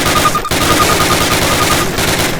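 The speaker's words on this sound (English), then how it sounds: "Fire 10 rounds at your target, first from the hip, then aiming down the gun sight" Rifle fire in Call of Duty, a dense, loud stream of rapid shots filling the whole stretch with only a brief break, close and alone without talk.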